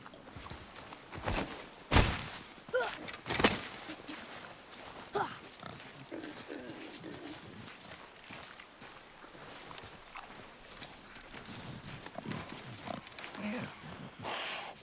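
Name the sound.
wild boar grunting, from video game God of War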